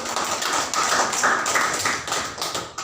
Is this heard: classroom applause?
yes